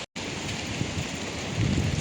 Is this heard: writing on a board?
no